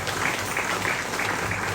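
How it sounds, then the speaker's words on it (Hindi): A crowd claps for three bhajan singers at a devotional music event in Brisbane, a continuous dense patter of hands at steady volume with no voices over it. "तालियों से एक बार फिर हम इन तीनों कलाकार को धन्यवाद दें"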